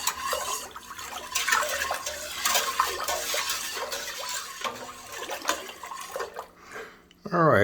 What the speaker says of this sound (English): after a pretty good vigorous stir